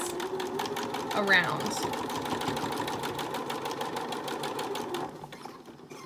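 A sewing machine runs a steady, rapid stitch while sewing a fabric face mask. It is close and continuous under a talking voice and stops shortly before the end.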